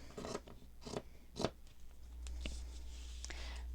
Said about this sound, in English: we're just going to cut some mitered corners here